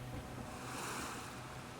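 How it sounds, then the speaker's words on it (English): Stormy wind and sea waves surge against a fishing boat at sea, a low continuous roar of surf and gusting air, steady and fairly faint. "Gao Ming has fought against the wind and waves for an hour already."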